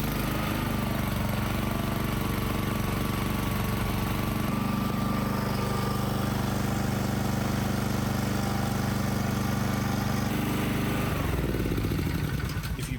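A Honda GCV160 small engine bolted to a pressure washer stand runs loud and steady with a rough, rattling drone that shifts slightly partway through, then winds down near the end.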